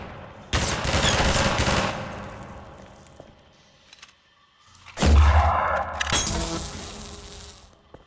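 Bursts of enemy gunfire in Half-Life 2 after the bridge breaks: a sustained volley, then a lull, then a second loud burst with a heavy impact, followed by more rattling shots that fade out.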